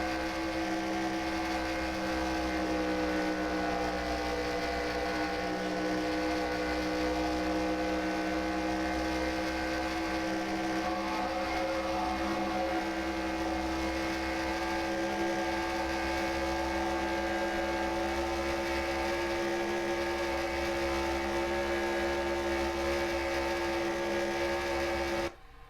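An onboard race car engine from a NASCAR-style sim racing game drones steadily at high revs, a loud, constant buzzing whine that holds the same pitch throughout before cutting off at the very end.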